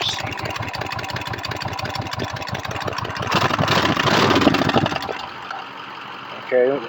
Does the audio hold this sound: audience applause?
no